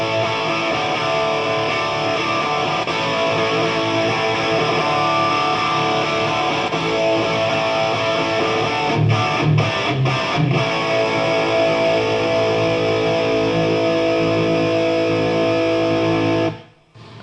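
An electric guitar through the OD1 overdrive channel of a Marshall amp rings out in a long, thick, sustained distorted chord, with a brief choppy stutter midway before the sound cuts off abruptly at the end.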